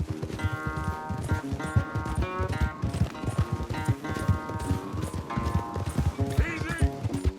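Horse hooves clip-clop in an uneven rhythm alongside neighing and whinnying in a Red Dead Redemption 2 game scene, with music and voices underneath.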